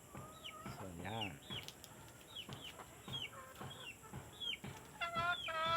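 Black chickens cluck and squawk nearby in short repeated bursts, with faint rustling in the background.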